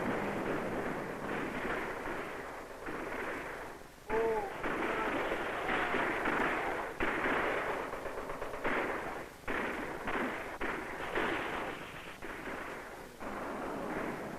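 Gunfire and explosions on the Bay of Pigs invasion beach in old archival film, a muffled, rumbling barrage of repeated bursts and thuds with a few brief tonal whistles, distant and dull.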